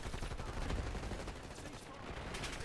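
Gunfire in the Black Ops 6 beta, a busy multiplayer match with continuous rattling shots and bursts under a steady game din, and voices talking over it.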